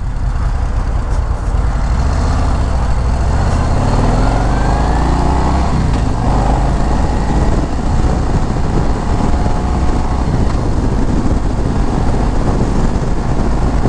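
A 2023 Harley-Davidson CVO motorcycle cruising on the highway, its engine a loud, steady low drone with heavy wind rush throughout, close and continuous with no talk.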